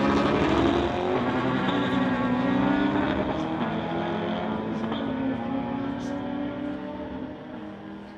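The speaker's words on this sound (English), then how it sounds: "Here is Harry Whittier from Poco in his Chevy Corvette, going against Richard from Langley in his 95 Honda." A Chevy Corvette and a 1995 Honda drag racing on a street-legal strip, heard as a loud, sustained engine roar with shifting revving tones that slowly fades as the cars pull away.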